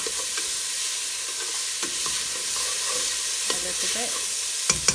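Onions soften in a pan over low to medium heat, giving a steady gentle sizzle with occasional stirring scrapes, and a voice speaks briefly over it.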